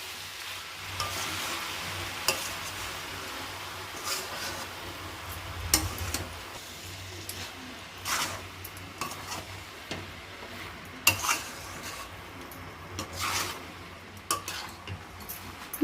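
A spoon stirs and scrapes paneer fried rice in a pan over a low gas flame, with soft sizzling and scattered light clinks and scrapes against the metal, fairly quiet and steady throughout.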